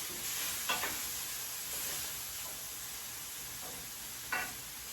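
Faint, steady sizzling of food cooking in butter in a pan, with a few soft stirring scrapes of a utensil over the hiss and no talk.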